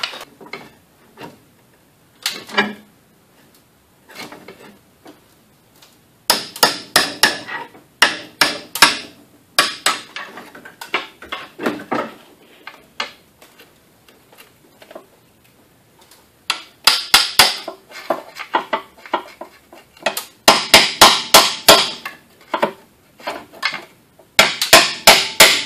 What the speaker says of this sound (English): Couple of blunt pounds with a pry bar.